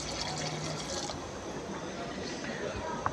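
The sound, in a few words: water poured into pot of beef karahi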